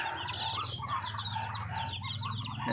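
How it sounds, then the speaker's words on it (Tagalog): Chicks peeping and clucking busily while being fed on a farm, a dense, continuous near chorus of chirps over a low background hum, with no talk. "Ang sarap pong pagmasdan ng ating mga sisiw pag nagpapakain tayo."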